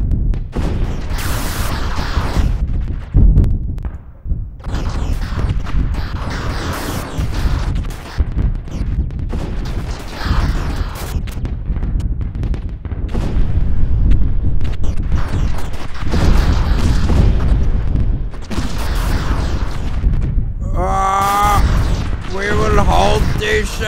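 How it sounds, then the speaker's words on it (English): Rockets explode in the space strategy game StarDrive 2, heard as a dense, continuous barrage of loud, booming blasts and rumbling impacts, with someone talking over parts of the battle. "I'm just hearing the rockets explode."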